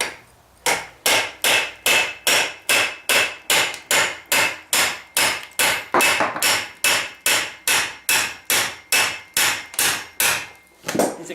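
Repeated hammer blows on a metal punch driving out a seized rear axle on a Honda CRF110F, about two dozen sharp, loud metallic strikes in a steady, evenly spaced rhythm with no talk.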